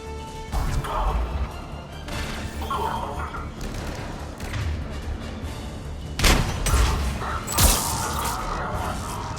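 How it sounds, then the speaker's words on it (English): A grenade blows up during a firefight in Mass Effect 3, heard as a loud crashing burst over ongoing gunfire and combat noise, with a second sharp blast a moment later. "Grenade!"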